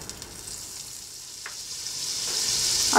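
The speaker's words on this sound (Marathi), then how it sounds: "आता इथे मी सँडविच टोस्ट करण्यासाठी पॅन घेतलं आहे, तर या पॅनमध्ये आपण थोडंसं बटर घालूयात" About half a spoon of butter melts in a pan for toasting a sandwich, giving a soft frying hiss with a few faint ticks that grows steadily louder over a few seconds.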